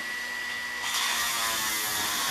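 A small rotary tool with a sanding drum whines at high speed, then its pitch shifts and roughens as the drum bites into an airsoft rifle part; continuous and close.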